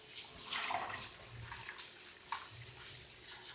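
Water runs from a tap in a steady stream, splashing and surging unevenly as dried fish is rinsed under it, close by, with no voices.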